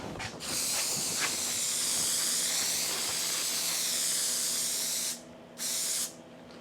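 A steady loud hiss of a spray gun spraying finish onto a wooden table saw outfeed table, cutting off briefly twice near the end before resuming.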